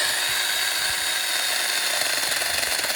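A small 4-inch mini chainsaw cuts through a tree branch with a steady, close, high-pitched motor whine and buzzing cut that holds without a break.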